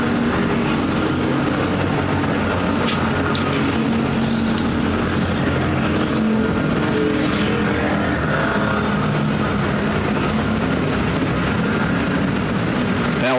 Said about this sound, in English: Schmitz coming after the 99 Keller for third as we work lap number 2